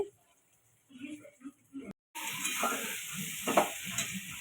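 After a quiet start with a person speaking briefly, boroli fish drops into hot frying spices and a loud, close sizzle takes over, with stirring scrapes running through it.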